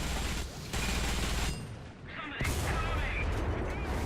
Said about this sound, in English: all the shooting going on just outside the A point